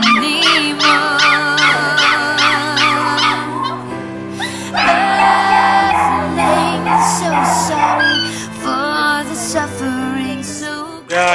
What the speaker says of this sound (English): Yeah, I see the other little dogs